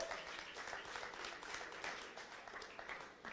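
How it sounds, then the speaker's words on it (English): An audience at a startup demo day event in San Francisco applauds, with a brief burst of steady, dense clapping at moderate volume. "Let's give some big applause here tonight, okay?"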